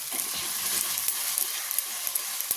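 Ground paste of ginger, garlic, green chili and tomato fries in hot oil with a continuous close sizzle, punctuated by light scraping taps as it is stirred in the pan.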